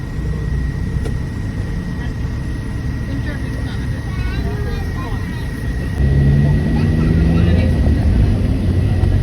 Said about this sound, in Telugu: అసలు ఇంజిన్ సౌండ్స్ తప్ప ఏమీ లేదు